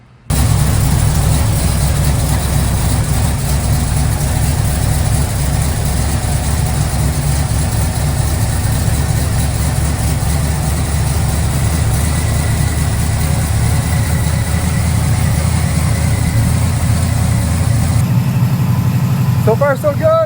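A Firebird's engine idles with a clutch fan fitted, a loud, steady low rumble with whirring fan noise held evenly throughout, close to the car.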